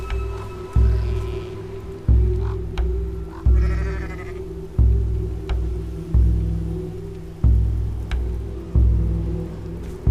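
A sheep bleats a couple of times over a steady, repeating low thudding beat, with a faint patter in the background.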